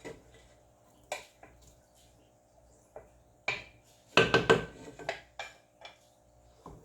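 Rice pudding spooned into a pot, with scattered light clinks and taps of a spoon against cookware and a brief cluster of louder metallic knocks midway, close by and without talk.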